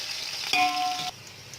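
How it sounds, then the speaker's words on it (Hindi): Onions sizzle loudly in hot ghee in a pot as they fry toward golden brown, a close, steady hiss broken by a brief metallic clang of a stirring utensil. "इसमें हम प्याज डाल देंगे और प्याजों को हम सबसे पहले गोल्डन ब्राउन करेंगे"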